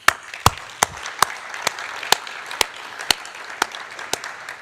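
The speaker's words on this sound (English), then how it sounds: "So a special round of applause to John Martinez and Michel Devoret." Audience applause at a university Grad Slam final, a steady wash of many hands clapping with sharper individual claps standing out at a fairly regular pace, sustained for several seconds at moderate loudness.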